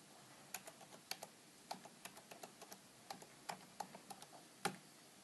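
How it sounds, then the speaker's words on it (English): Numbers being typed on a computer keyboard into a web browser's address field, a run of quick, light, close keystroke clicks in an uneven rhythm against a quiet background. "in the address field we type these numbers in"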